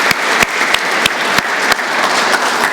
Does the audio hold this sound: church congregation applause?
yes